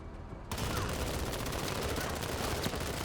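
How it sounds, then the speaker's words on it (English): Sci-fi gunfire from the turn-based tactics game Menace, a dense, continuous fusillade of rapid shots that starts abruptly after a short quiet moment and stays loud and sustained. "Try and gun these guys down."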